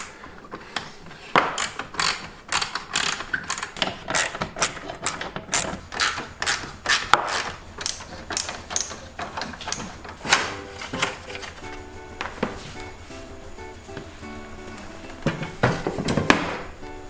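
Metal legs being popped off an old ironing board with mismatched hardware, giving a busy run of close clicks, clanks and ratcheting snaps in quick irregular bursts, louder near the end.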